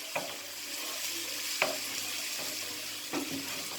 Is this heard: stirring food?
yes